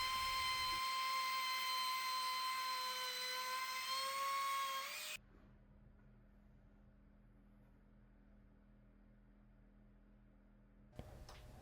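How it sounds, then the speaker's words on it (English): A router fitted with a 3/4 inch round nose bit cutting a cove into a wooden bed leg gives a loud, high-pitched whine for about five seconds, then drops to a low hum. "first cutting this cove detail with a 3/4 inch round nose bit in my router"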